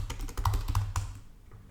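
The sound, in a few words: computer keyboard shortcut being typed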